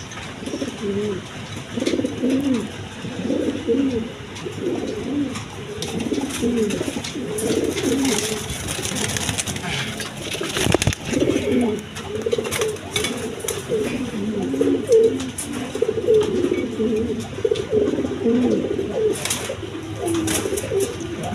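Pairs of Mondain pigeons, cream-coloured with yellow eyes, coo steadily and continuously in a loft, with overlapping low throaty calls close by and a faint hum of background noise.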